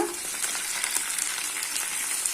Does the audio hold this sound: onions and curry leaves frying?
yes